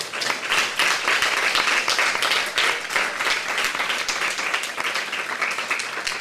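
A crowd at a live academic debate event claps loudly and continuously, a dense, even wash of hands that carries on throughout without pause.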